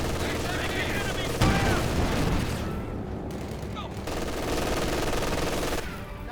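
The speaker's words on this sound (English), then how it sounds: "Sounds like an MG42." An MG42 machine gun firing in a Company of Heroes 2 battle, dense rattling bursts with booms and distant gunfire layered through a constant noisy battlefield, no talk over the shooting.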